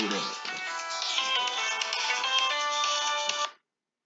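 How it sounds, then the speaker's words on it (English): A phone rings with a bright electronic ringtone melody, loud and close, playing steadily for about three and a half seconds before cutting off. "And my phone is ringing."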